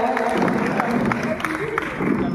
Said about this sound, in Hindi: जोरदार ताली से हमारे कलेक्टर महोदय का स्वागत किया जाए।